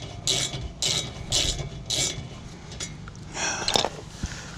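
A wrench ratchets on a brake bolt of a Honda Civic Type R during a brake pad change, giving several short clicking bursts up close, then a scrape and a sharper clack.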